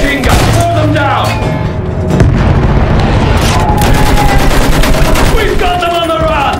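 Battlefield 1 combat, with continuous loud machine gun fire and booming explosions filling the scene while voices shout over the battle.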